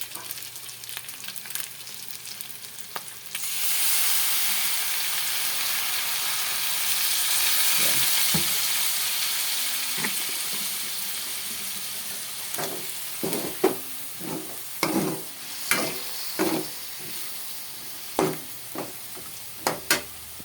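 Soy sauce hits hot chicken and pork adobo in a pan and sets off a loud, sustained sizzle that slowly fades, followed by sharp scraping stirs and clanks of a utensil against the pan.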